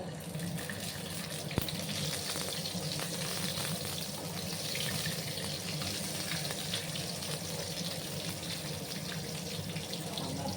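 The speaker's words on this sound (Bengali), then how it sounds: "এবার আমি ডিমগুলোকে একটু হালকা করে ভেজে নেব।" Eggs frying lightly in a little oil in a pan give a steady, even sizzling hiss that carries on without a break and without voices, with one brief sharp tick partway through.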